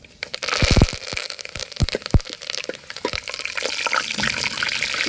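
Mustard seeds and urad dal fry in hot oil in a pan, giving close, sharp pops and crackles that come in quick bursts over a rising sizzle.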